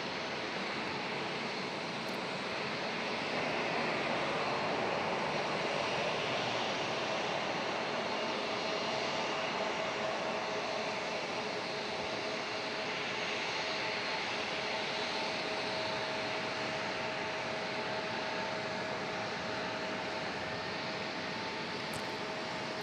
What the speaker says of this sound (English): FedEx Cessna Caravan coming in next.